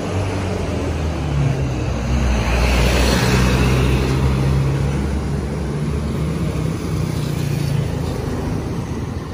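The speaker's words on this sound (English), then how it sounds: "Lots of big trucks." Heavy road traffic with big trucks rumbling past on a busy street in the Philippines, a steady loud low drone that swells around the middle as a large vehicle goes by, no talking.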